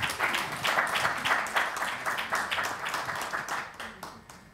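A room full of people clap in a steady burst of applause for candidate Jeon Seung-nam at a social workers' association election debate. The clapping is close and dense, then thins toward the end.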